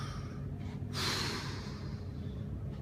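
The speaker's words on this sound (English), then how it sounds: "Nice big deep breath" A single big, deep breath taken during a slow shoulder mobility exercise for shoulder impingement, heard as one soft, close airy inhale and exhale over a steady low background.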